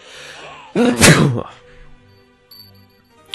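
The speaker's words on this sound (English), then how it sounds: "Oh, I need to sneeze." One sharp, loud sneeze bursts out about a second in against quiet game music, then fades back to the soft background tones.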